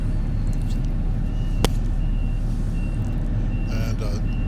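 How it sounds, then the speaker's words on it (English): On a construction site beside a newly built ditch bank, a vehicle backing up toward an excavator sounds a repeated reversing beeper over a heavy, steady diesel engine rumble. "You can hear the beeper there."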